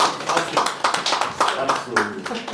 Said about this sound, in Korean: 자, 박수 주시죠.